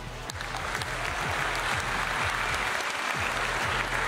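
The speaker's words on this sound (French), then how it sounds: "on peut une fois de plus les applaudir" An audience at the Aito Tu'aro 2023 awards evening applauds honorees; dense, sustained clapping from a sizable crowd, steady and continuous, with a low hum running underneath.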